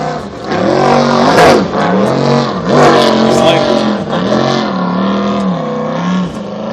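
A high-power custom jet boat on the Pitt River, its engine loud and close, revving in repeated rising and falling surges that sweep up and down across several seconds.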